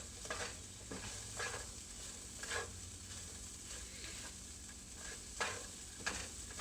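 Eggs sizzle in a frying pan for fried rice, a steady soft crackle broken by occasional scraping stirs, with no one talking.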